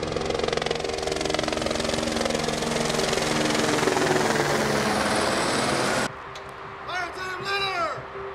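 A helicopter flyover at an outdoor funeral service roars loudly overhead for several seconds, then cuts off abruptly, leaving quieter background sound with some faint voices.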